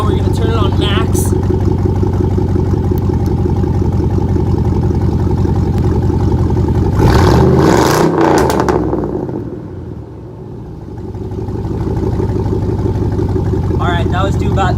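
A gas 1500 pickup truck's engine rumbles near at idle, then revs up to about 3,500 rpm and drops back before settling into idle again, with a voice speaking over it.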